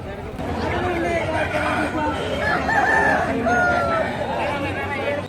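A rooster crows loudly over a busy crowd of chattering voices and clucking birds at a weekly poultry market, with people talking throughout.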